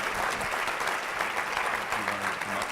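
Audience applause for Dr. Denise Smith at a keynote closing Q&A, steady dense clapping from a crowd filling the whole stretch, with a few voices faintly audible underneath.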